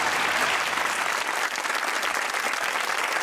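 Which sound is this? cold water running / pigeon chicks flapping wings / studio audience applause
studio audience applause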